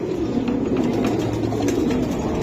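A male racing pigeon at a loft, giving soft, repeated throaty coos in a steady rhythm close to the microphone, with no talk.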